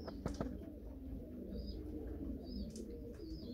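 Red Akbaş German Demkeş pigeon cooing softly with low, rolling coos, faint and continuous against a quiet indoor background with a few light chirps.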